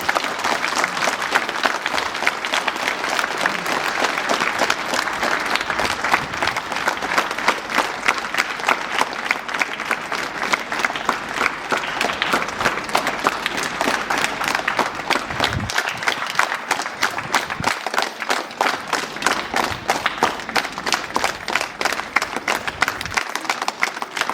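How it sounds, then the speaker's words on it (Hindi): Loud, sustained applause from an audience at an Ursuline Sisters jubilee celebration in Gumla, dense clapping filling the hall steadily for the whole stretch, with brief dips near the end. "आइए हम जोरदार तालियों द्वारा बधाई दें"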